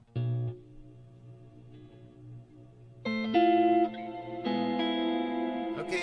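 Sustained musical notes run through a Space Blender effects unit, each tone shimmering with chorus-like modulation and rich layered harmonics; a lower note holds first, then brighter stacked notes enter in steps, clear and alone.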